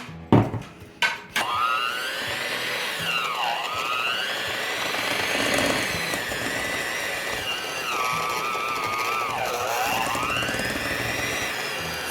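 An electric hand mixer whirs steadily through a thick no-bake white blueberry lemon cheesecake mixture, its motor pitch dipping and rising as it loads, after a few clattering knocks at the start.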